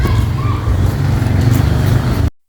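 In the teachers' parking lot of a junior high school in Waringin Kurung, a nearby vehicle engine rumbles loudly and steadily, with faint traffic-like noise, before cutting off abruptly.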